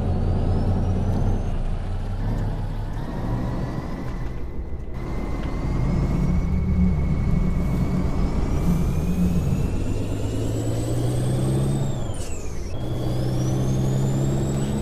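A Peterbilt 389 truck in Euro Truck Simulator 2 drives with a loud, steady engine drone that rises and falls in pitch, a whining tone climbing through the gears and a brief hiss near the end.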